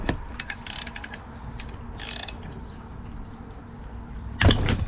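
A 5/8 socket wrench ratchets in quick clicking runs while working a 1960 Edsel brake repair, light mechanical clicks close by, ending in a louder clunk.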